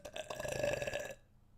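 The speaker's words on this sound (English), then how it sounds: "I got a burp." A single drawn-out burp, loud and close, lasting about a second before trailing off into quiet.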